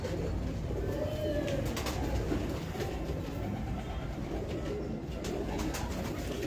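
Pigeons coo softly over a heavy, continuous rumble like a passing train, with the low throaty calls repeating throughout.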